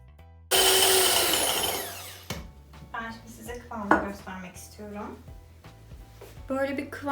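A hand mixer whips egg whites for meringue at its highest speed, a loud steady whir for about two seconds that then drops away while a voice talks with kitchen clatter.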